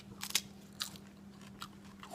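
Raw sprouted lentils being bitten and chewed: a few sharp, crisp crunches spaced irregularly, close and fairly quiet over a low steady hum, with no talking.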